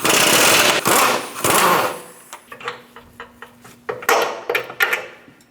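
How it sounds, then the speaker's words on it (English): Ratcheting and metallic tool work on a rear engine torque strut mount bolt of a 2012-2020 Chevrolet Sonic 1.8L, an 18mm socket on a swivel; a loud burst of rapid clicking, then lighter separate clicks and knocks. "Using a swivel and an 18mm socket, I'm going to remove this bolt."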